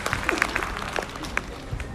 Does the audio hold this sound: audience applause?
yes